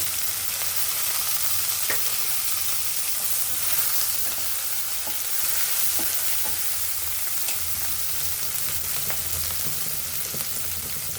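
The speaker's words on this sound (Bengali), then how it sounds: "এরপর চিংড়িটা ঢেলে দেব" Prawns frying with bitter gourd and ground spice paste in a hot pan, giving a loud, continuous sizzle with a few faint utensil taps throughout.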